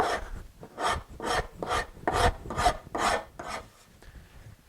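A wood rasp shaping a wood sculpture, rough rasping strokes repeating about eight times in an even rhythm, each a coarse scrape close by, alone with no talk.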